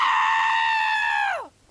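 A long, loud, sustained scream in a comedy act, holding one high, steady pitch before sliding downward and cutting off abruptly into quiet.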